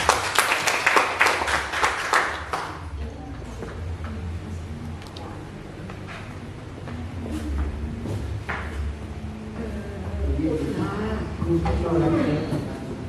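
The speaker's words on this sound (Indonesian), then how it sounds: "Beri tepuk tangan dulu untuk Ibu Ida." An audience at a school training session bursts into a few seconds of loud, dense clapping that quickly thins out, followed by a voice speaking over a quiet room with scattered small knocks.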